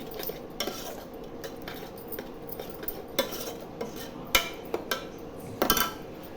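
A spoon stirs ground tomatoes in a cooking pan for a chicken parts roast, giving scattered metallic clinks and scrapes at an uneven pace over a low, steady background.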